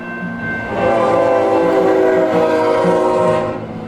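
A BNSF freight train rolls past on the former Atlantic Pacific line in the Southwest, loud and close: a sustained heavy rumble with tonal squeal lines from steel wheels, swelling after a second and holding steady before easing at the end.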